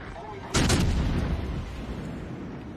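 A single heavy boom from a warship's main guns in World of Warships Legends hits hard and loud, then leaves a long rumbling tail.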